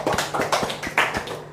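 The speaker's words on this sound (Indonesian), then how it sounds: "Tepuk tangan dulu." A short round of classroom hand clapping, a handful of quick sharp claps in an uneven rhythm, close and fairly loud, with no talk over them.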